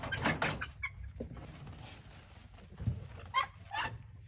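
Short bursts of a single chicken clucking from nearby among ducks, a few scattered calls over a faint noisy background with some rustling.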